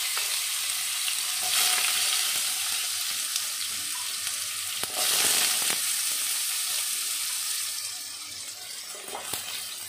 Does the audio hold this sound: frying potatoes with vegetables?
yes